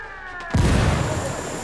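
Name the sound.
frag grenade explosion in video game Ghost Recon Wildlands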